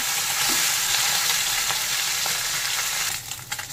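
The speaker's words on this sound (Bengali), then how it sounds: "দুদিকে লাল করে ভেজে নেব।" Fish frying in mustard oil in a wok, cooking on both sides, gives a loud continuous sizzle with a few sharper pops near the end.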